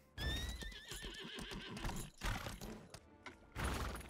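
Horse neighing and whinnying with clip-clopping hooves in the video game Lost Ark, a loud nearby whinny opening and hoofbeats running throughout, with a second burst later.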